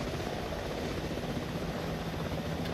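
A helicopter in a video game gives a steady, loud, continuous rotor and engine drone with no break across the whole stretch.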